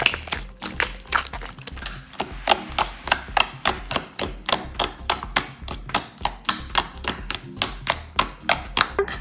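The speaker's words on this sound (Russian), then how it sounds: "этот слайм классно кликает" Slime kneaded by hand gives a steady run of crisp, close clicks and pops, roughly two per second and fairly loud, with no talking.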